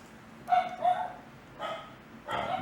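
A dog barks outside in three separate bouts, each a quick cluster of two or three barks, heard from a distance at moderate loudness. There is no voice over the barks.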